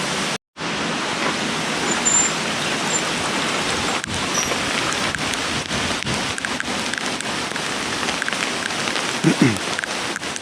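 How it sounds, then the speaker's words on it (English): Steady heavy rain from Hurricane Ian hisses and patters all around in Murrells Inlet, South Carolina, a dense unbroken wash of noise with occasional louder drops and gusty swells of wind. "We spent the afternoon listening to the rain and the wind."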